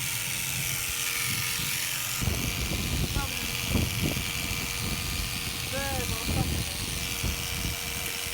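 Electric shears buzzing steadily while an alpaca is shorn close up, a continuous droning hum under a voice talking over it.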